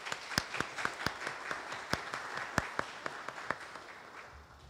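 Sparse, distinct hand claps ring out in an uneven rhythm, a small group applauding guests at a distance at a military change of command ceremony, gradually fading.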